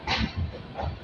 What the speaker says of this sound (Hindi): चलिए अपनी गाड़ी निकल रही है खगड़िया जंक्शन के प्लेटफॉर्म नंबर 1 से।